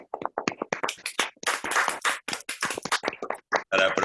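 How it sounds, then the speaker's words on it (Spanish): Virtual applause from online conference participants, a patchy burst of hand clapping coming through open microphones, uneven and overlapping claps from several people at close range with brief gaps. "dar un fuerte aplauso virtual a todos los expositores y participantes"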